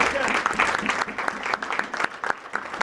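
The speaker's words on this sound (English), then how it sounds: "let's give him a round of applause for that" Applause from a crowd at a Kenosha civic announcement, steady clapping throughout, with a bit of voice mixed in.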